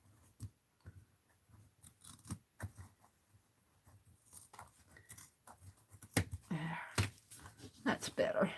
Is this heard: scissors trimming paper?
yes